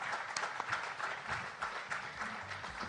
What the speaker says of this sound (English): I want you guys to give the panel a big round of applause.